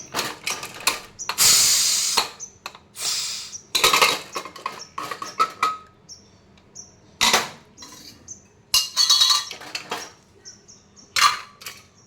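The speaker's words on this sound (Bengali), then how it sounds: "আমি এবার প্রেসার কুকারটা খুলছি" A pressure cooker being opened after several whistles while cooking a vegetarian seven-lentil dish, giving a run of sharp metallic clicks, clanks and brief hissing bursts, close by and irregular.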